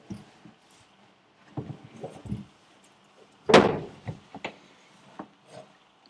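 A closet door opened: scattered wooden knocks and rattles, then one loud sharp bang or thud at mid-clip, followed by a few lighter taps and creaks nearby.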